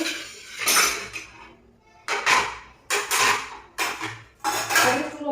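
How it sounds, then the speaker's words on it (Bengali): Pots, dishes and cutlery clatter and scrape in a home kitchen sink during washing, in several loud bursts of clinking metal and crockery separated by short pauses, with no voices. "চলো যেমনই নোংরা থাক আমি এখন পরিষ্কার করে নিই তাতে রান্না করবো"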